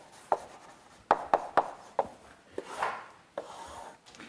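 Chalk taps and short strokes on a blackboard while a graph curve is sketched in a lecture hall, a series of crisp, close scrapes at an irregular rhythm with brief pauses between them.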